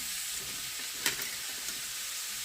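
Gentle sizzling of pumpkin frying in a pan over very low heat, a soft steady crackle with a faint stir, fairly quiet.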